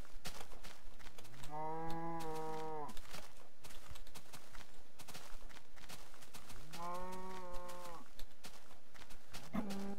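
Cows in a video game let out two long, drawn-out moos several seconds apart, with a third beginning at the end, heard over a steady busy game background with no talk.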